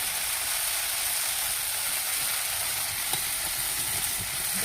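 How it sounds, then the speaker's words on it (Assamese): Taro leaf curry in a pan gives a loud, steady hiss and sizzle after hot water goes into the frying mixture. The sound is close and continuous, with a few faint clicks and no talking. "গৰম পানী দি দিম এতিয়া, গৰম পানী আছে"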